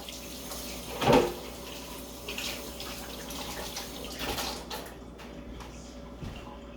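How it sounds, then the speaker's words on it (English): Running water from a kitchen sink tap splashes over hands being rinsed, a steady hiss with a brief louder splash near the start, then the flow stops. "We'll put this in the sink, rinse my hands off."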